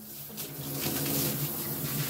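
A home shower runs at full flow, a steady hissing rush of water that holds constant throughout with no voices over it.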